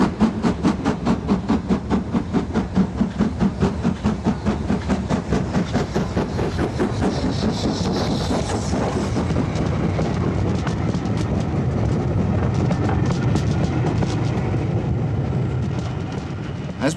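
LMS Black 5 steam locomotive 5407 working along the Settle and Carlisle line, a loud, steady, rapid exhaust beat with rhythmic clatter of the train, continuing close and unbroken throughout.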